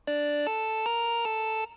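A bright synth lead plays four sustained notes in a row, a clean buzzy tone stepping upward, loud and alone.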